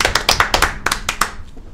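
A studio audience claps to welcome a former member of the 17th National Assembly introduced as a guest on a Korean political talk show, with about a dozen sharp, loud claps in a quick, uneven run that thins and fades near the end.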